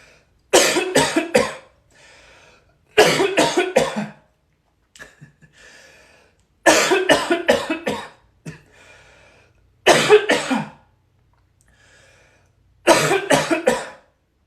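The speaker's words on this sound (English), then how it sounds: "I'm going to cough." Harsh, close coughing fits come in repeated bursts of three or four coughs each, separated by quiet pauses with faint breathing.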